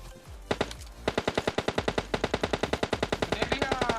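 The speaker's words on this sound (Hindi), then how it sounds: "फायरिंग की आवाज सुनो।" Rapid automatic gunfire in a mountain-set battle royale video game, a loud steady burst of evenly spaced shots after a couple of single cracks, sounding close and dominating the scene.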